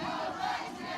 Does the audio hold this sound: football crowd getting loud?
yes